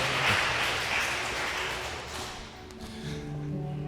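A Korean church congregation claps along in praise during worship, producing a steady, close wash of many hands that softens slightly midway and then swells again.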